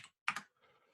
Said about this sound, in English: Calculator. Type in calculator.